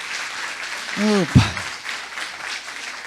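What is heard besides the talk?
congregation applauding a couple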